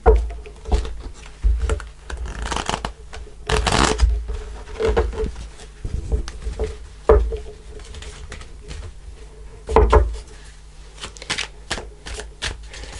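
Tarot cards shuffled by hand in a quiet room, a run of brisk papery riffles and soft slaps in irregular bursts, close and fairly faint, with no talking.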